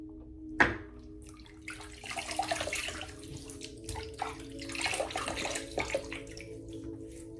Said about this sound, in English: Put it back in the water, and let's get started making some lather.